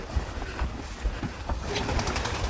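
Kept pigeons at a country dacha coo in soft, low repeated phrases, close by, over a steady background hum.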